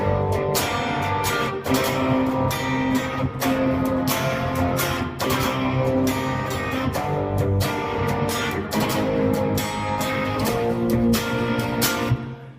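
An electric guitar, tuned down a semitone, strums the pre-chorus chords of a song. The chords ring out steadily and loudly, with no talking.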